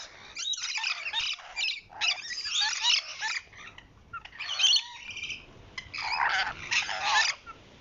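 A flock of lorikeets shrieks and chatters loudly while feeding, in dense harsh bursts separated by short gaps, close by with no talking.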